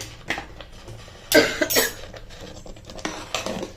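Coriander powder spooned into a pot for a green pea and potato kurma: metal spoon clinks and scrapes against the vessel in a few bursts, fairly close, with no talking.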